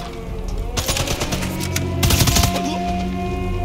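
Rapid automatic gunfire from a video game, loud and dense bursts with a brief lull before a second heavier volley, continuing under game effects.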